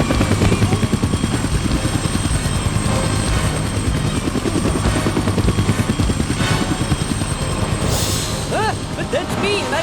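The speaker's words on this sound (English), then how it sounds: "I haven't got a clue how to fly a helicopter" Loud, continuous whirring rotor and engine drone of a helicopter in flight in a cartoon, steady throughout with faint whistling and rumbling layered in.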